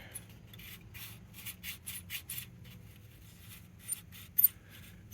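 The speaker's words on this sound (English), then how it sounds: "definitely rubbing a few places" Rubbing and scraping from a part catching as it turns inside a Packard Bell portable, heard as a series of short, quiet scratchy bursts in irregular rhythm over a low steady hum, close by.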